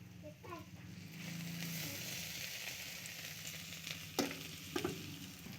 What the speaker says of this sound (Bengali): পেঁয়াজটি একটু লাল হয়ে গেছে, এখন আলুটি দিয়ে দেব।